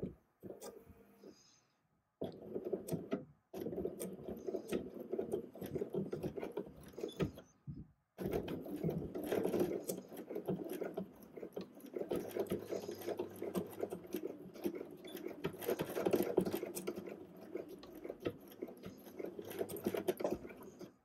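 Sewing machine stitching back and forth to reattach a belt loop on a ready-to-wear waistband, a close mechanical whir running in bursts with short pauses between runs, plus small clicks and rattles.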